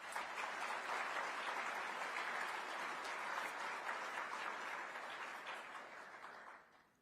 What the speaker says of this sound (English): please give Gary a round of applause